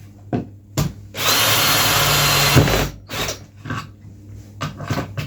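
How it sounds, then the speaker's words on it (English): A power drill bores into material while tightening on a 19mm bit for a bar foot rail, a sustained loud whine running about two seconds between shorter clicks and bursts of handling. "Tighten my drill bit up, it might help."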